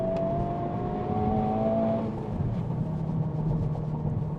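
A 2023 Honda Civic Type R FL5 pulls hard through the revs from inside the cabin, engine tone climbing steadily for about two seconds before a brief shift dip and continued strong acceleration, loud and close throughout.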